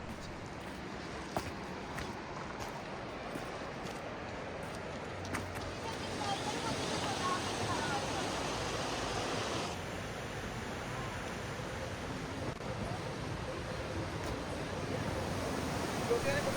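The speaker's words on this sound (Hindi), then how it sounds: "कल कल बहते इस पानी का शोर कुदरत के आगोश में होने का एहसास कराता है।" River water flows near Jibhi in Himachal, a steady broad rushing wash that fills the scene evenly throughout, swelling slightly partway through and continuing without pause.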